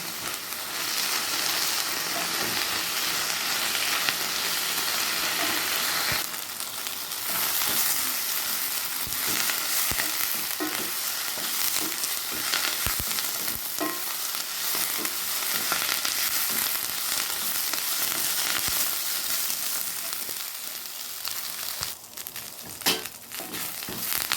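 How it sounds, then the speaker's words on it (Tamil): Curry leaves sautéing in a pan for a Tamil chutney, a loud continuous sizzle with scraping stir strokes and occasional crackles, close up with no talking. "கருவேப்பிலை நல்லா வதங்கி வந்துடுச்சு."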